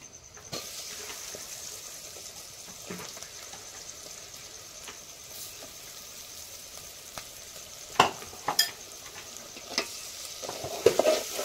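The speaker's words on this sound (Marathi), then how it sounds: "मसाला ढवळून घ्यायचा आहे। आता टाकायचा आहे आपला गोडा मसाला।" Masala is stirred in a pan of Konkan-style crab curry: soft sizzling and frying hiss under scraping spoon strokes, with a few sharper clinks and scrapes growing louder near the end.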